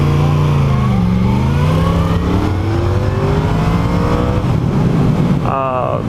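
A Yamaha FZ10 motorcycle engine revs steadily up and down, loud and close, its pitch climbing over several seconds with a sharp blip near the end.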